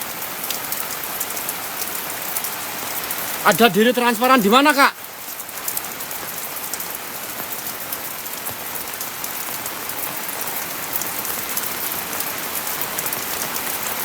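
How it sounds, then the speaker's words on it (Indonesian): Rain pattering steadily on a mountain trail on Gunung Salak, a constant dense hiss throughout, with a brief burst of a person speaking partway through. "Ini hujan-hujan loh."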